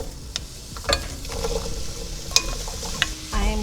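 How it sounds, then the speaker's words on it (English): Apples sauteing in melted butter in a pan give a soft, steady sizzle with a few scraping stir sounds and clinks, close up and moderately quiet. "I am just going to begin sauteing the apples or until they're softened"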